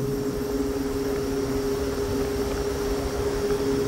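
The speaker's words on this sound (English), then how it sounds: "The motor is ramping up." A Ziehl-Abegg EC Blue fan motor under troubleshooting test runs with a steady droning hum and a clear low tone, a constant whooshing air noise close by with no voices.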